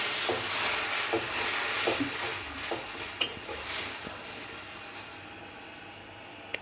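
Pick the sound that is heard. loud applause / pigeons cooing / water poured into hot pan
water poured into hot pan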